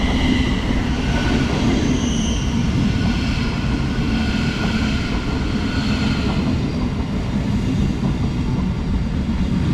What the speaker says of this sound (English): next train to arrive is the 1327 Thameslink service from Brighton to Bedford